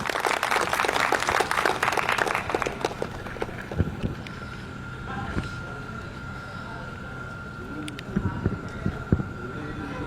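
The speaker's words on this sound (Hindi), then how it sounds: "सभी श्रोताओं से आग्रह है कि वो जोरदार तालियों से सभी अतिथियों का स्वागत करें" An audience at a poetry recital event at SVNIT bursts into dense applause to welcome the guests. The clapping is loud for about three seconds, then thins into scattered claps over background noise.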